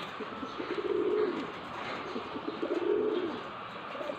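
Soft, low cooing from a Taiwanese bird, two drawn-out phrases about two seconds apart over a steady background hiss.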